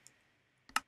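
A few quick taps on a computer keyboard, typing a sign's text in Minecraft: one faint click, a pause, then a short louder cluster of keystrokes close by in a quiet room.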